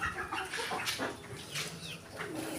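Pet chickens cluck and chirp in a backyard, several short calls overlapping close by against light ambient noise.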